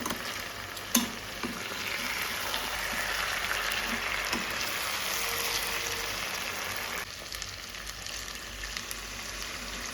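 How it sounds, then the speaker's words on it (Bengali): Pre-fried potatoes and meat sizzle in a pan with Kashmiri chili powder, giving a continuous, close frying hiss under scraping stir noises and an occasional clink; the sizzle softens slightly toward the end. "একটুখানি কষানো হয়ে গেলে এবার ভেজে রাখা আলুটাও আমি দিয়ে দিয়েছি এর মধ্যে।"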